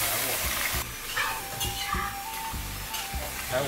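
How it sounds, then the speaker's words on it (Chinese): Pork ribs frying in a wok over bay leaf, ginger and scallion, a continuous crackling sizzle punctuated by regular stirring scrapes of the spatula, fairly close. "咱们开始炒排骨"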